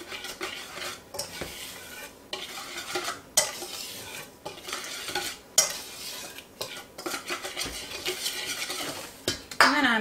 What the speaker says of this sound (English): And we're going to whisk all of that together